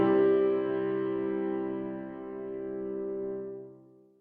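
A single sustained chord in a minor key from a sight-singing lesson, held clearly and slowly fading over a few seconds, with no voices.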